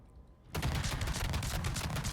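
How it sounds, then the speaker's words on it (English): Mogador ship guns in World of Warships fire a rapid, dense barrage of booming salvos after a quiet half-second start, loud and continuous to the end. "this is Mogador guns firing every 2 seconds"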